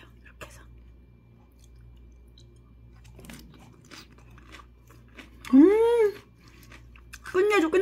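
Sea squirt bibimbap is eaten, with soft close chewing and crunching, low murmured voices, and two louder rising vocal sounds near the end.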